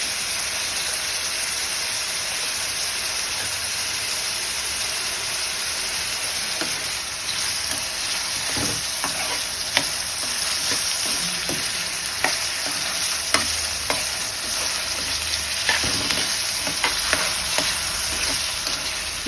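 Sliced snake gourd fries in hot oil with turmeric and salt, a steady loud sizzle broken by scraping stirs and clinks that grow busier toward the end.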